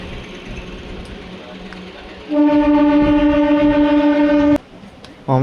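A train slows as it nears Kaldari station, its rolling rumble broken by a loud, steady horn blast of about two seconds that stops abruptly.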